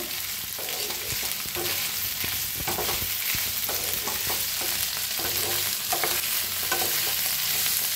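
A spoon stirs a spiced potato vegetable dish in a hot pan, with scraping strokes over a steady, loud, close sizzle of frying, and no voices.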